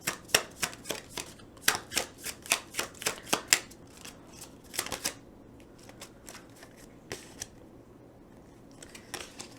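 Tarot cards shuffle and flip in a series of crisp, close riffling snaps. The bursts come fast at first, then thin out into scattered flicks with brief pauses between them.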